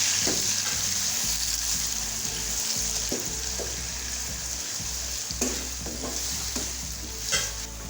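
Three onions frying in a pan until light brown, hissing loudly and steadily up close, with repeated scraping strokes of a spoon through the pan and no talking.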